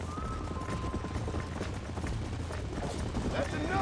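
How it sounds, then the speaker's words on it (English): Horses running in the video game Red Dead Redemption 2, a steady clip-clop of hooves under continuous game noise and ambience, with voices talking over the galloping throughout. "There's the horses!"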